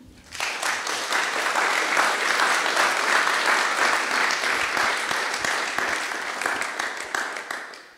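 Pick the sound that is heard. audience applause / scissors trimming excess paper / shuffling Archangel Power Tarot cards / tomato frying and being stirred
audience applause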